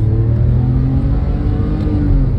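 Interior engine roar of a 2008 Porsche 997 Carrera coupe with a six-speed manual, revving hard and pulling up through the gears, loud and steady with a rising harmonic whine and no voices.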